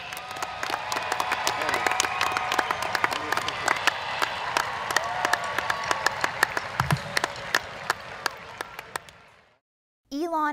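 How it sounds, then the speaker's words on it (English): A hall audience applauds at an Elon Hall of Fame ceremony, dense clapping with sharp individual claps for about nine seconds before it fades to silence and a voice begins speaking. "Ladies and gentlemen, a round of applause for Amy Williamson."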